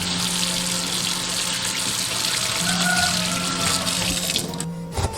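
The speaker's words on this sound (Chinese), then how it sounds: "现在我们处理一下五花肉，用温水清洗会比较干净。" Warm tap water runs steadily over raw pork belly in a kitchen sink, a continuous close hiss of splashing water that holds for several seconds and stops briefly near the end.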